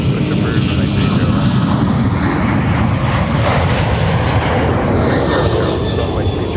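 Airliner engines at Minneapolis–St. Paul airport roar steadily and loudly during takeoff on runway 30 left, a constant broadband jet rumble with a faint radio voice underneath.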